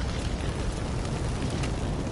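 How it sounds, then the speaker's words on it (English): An explosion in the horror video game Daylight produces a sustained, dense roaring rumble that holds steady throughout, with no voices. "Whoa, that was like Call of Duty. Explosions. Michael Bay explosions"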